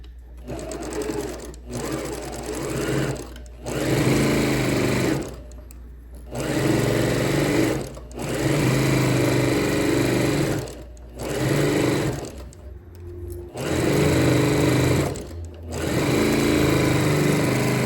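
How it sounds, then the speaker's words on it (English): A sewing machine stitches fabric for a large tote in bursts of fast, buzzing whirring, stopping and starting several times with short pauses between runs, close and clear. "and start sewing"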